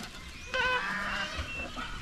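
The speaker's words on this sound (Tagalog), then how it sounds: "Palabasin natin ating kambing" A goat let out of its pen gives a single wavering bleat of about a second, moderately close, against quiet farmyard background.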